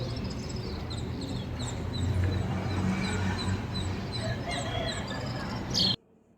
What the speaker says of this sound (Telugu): పిట్టలు కానీ అవన్నీ కూడా సౌండ్ చాలా బాగుంటుందండి చెవులకి వినాలని అనిపిస్తూ ఉంటుంది